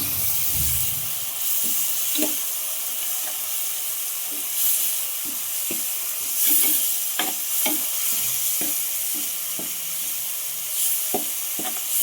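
Onions and garlic fry in a pan for a tomato-based curry, a continuous sizzle with scattered stirring scrapes and clicks, close and steady throughout with no talking.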